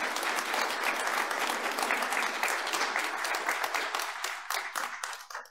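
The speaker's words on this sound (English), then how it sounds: "So can we just give our sponsors a round of applause?" A church congregation gives a sustained round of applause for the sponsors, dense and steady clapping that thins to scattered claps at the end.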